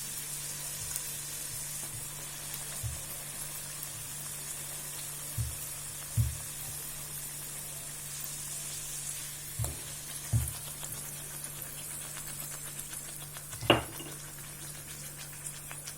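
Moong dal puri frying in hot oil, a steady faint sizzle with scattered soft pops and bubbling bursts throughout, no voices.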